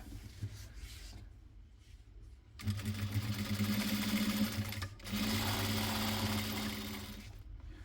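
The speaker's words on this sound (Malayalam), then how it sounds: "ഇങ്ങനെ തിരിച്ചും മറിച്ചും വെച്ചിട്ട് സ്റ്റിച്ച് ചെയ്തെടുക്കുക." A sewing machine stitches fabric pieces together for a homemade placemat, running in two steady bursts with a brief stop between them, close and loud over a low hum.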